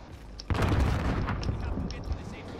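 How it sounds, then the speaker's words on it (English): A grenade lands and detonates in the Warzone video game, a sudden loud blast followed by a long rumbling, crackling roar with scattered sharper pops under the noise. "I'm gonna throw a nade towards a circle"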